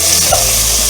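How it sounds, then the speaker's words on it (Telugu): Onion pieces and green chillies sizzle loudly in hot oil with a steady hiss, and a brief stirring scrape comes near the start. "ఈ నూనెలోనే ఉల్లిపాయ ముక్కలు వేసేసుకున్నాము. పచ్చిమిరపకాయలు వేసేస్తున్నాం చూడండి."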